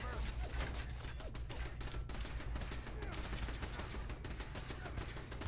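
Turret gunfire in the Fallout 4 video game: a dense, unbroken stream of rapid shots rattles loudly and steadily from start to finish.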